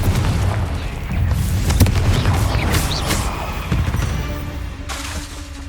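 A Confringo fire spell blasts in Hogwarts Legacy, a series of heavy booming explosions with crackling bursts over a continuous rumbling game soundscape.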